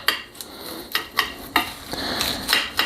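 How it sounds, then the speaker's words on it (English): A sharp kitchen knife chops food on a board in a run of crisp, near, irregular strikes, some sharp and isolated and others blurring together, with no talking. "I love this knife, super sharp. I'm gonna chop everything up."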